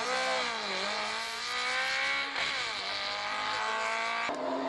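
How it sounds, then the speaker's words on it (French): A Talbot race car at a hill climb, its engine loud and close, revving and sweeping up and down through gear changes as it passes. "sa superbe talbot couleur Yako préparée par son ami"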